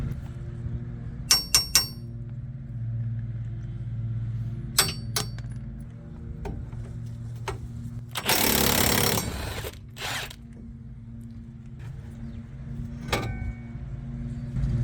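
A Milwaukee power tool whirs in one short burst while bolts come off an F550 Powerstroke truck, set among sharp metallic clinks and taps of tools close by, with no talking.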